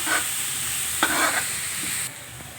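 Onions and green chillies sizzle steadily in a pan, close and moderately loud, with a few stirring scrapes breaking through the frying hiss.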